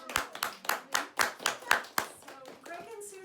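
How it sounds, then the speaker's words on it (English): An audience at a fundraiser event claps in a quick, fairly even run of distinct hand claps that soon thin out and fade. "Can we all give them a round of applause?"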